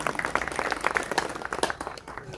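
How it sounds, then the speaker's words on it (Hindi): Audience applause for a guest at an event: a short, dense patter of many hands clapping together, fairly loud and tapering off slightly at the end. "एक बार जोरदार तालियां विवेक जी के लिए।"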